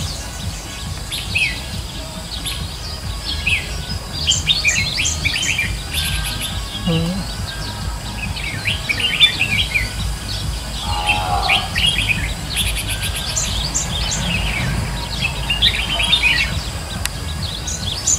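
A decoy songbird chatters in rapid bursts of harsh, busy calls, near and fairly loud, with other birds and faint insects around it outdoors.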